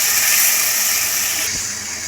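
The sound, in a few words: raisins, sesame and melon-seed paste sautéing in pan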